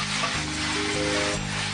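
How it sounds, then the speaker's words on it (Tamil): Cartoon fried rice sizzling in a pan, a loud steady sizzle over low tonal background music with no talking. "எனக்கு சுவையான ஃப்ரைட் ரைஸ் பண்ண தெரியும், இப்ப அதுதான் செஞ்சிட்டு இருக்கேன்"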